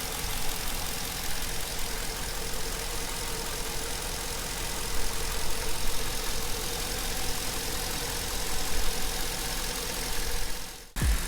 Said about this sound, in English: Both fans are running.